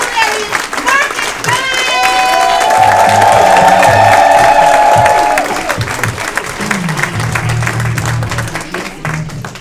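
Comedy club audience at the Lincoln Lodge clapping and cheering loudly, with whoops rising over sustained applause, while an excited host's voice carries over the crowd as the noise tapers toward the end.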